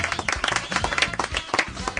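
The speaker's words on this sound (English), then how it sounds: "Sam, leading the applause." Scattered hand clapping from a small group, brisk and uneven, with cheers mixed in close by.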